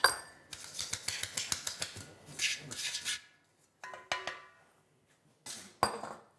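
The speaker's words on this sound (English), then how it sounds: "So I'm going to sift it right over top" Flour, baking powder and salt are sifted through a metal sieve over cake batter. Close, rapid rasping taps come in bursts, broken by short pauses of near silence.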